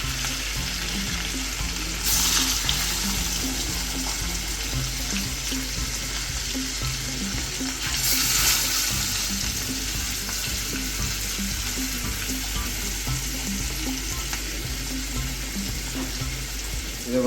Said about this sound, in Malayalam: മെൽറ്റായ ബട്ടറിൽ നമ്മൾ പെപ്പറും ഉപ്പും തേച്ച സാമൺ ഇട്ട് കൊടുത്ത് പൊരിച്ചെടുക്കണം.